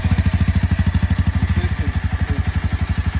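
A Honda CBR F4i 600cc motorcycle engine runs while being ridden, giving a loud, close, rapid and steady pulsing thrum that holds for several seconds, with a brief murmur of talk under it midway.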